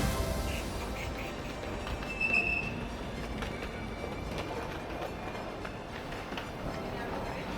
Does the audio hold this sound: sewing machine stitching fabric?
no